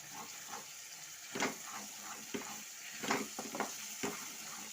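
Masala with salt and coriander sizzles steadily in hot oil for a matar paneer dish. Scattered clinks and scrapes of stirring cut through the constant close frying hiss.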